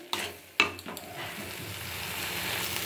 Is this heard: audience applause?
no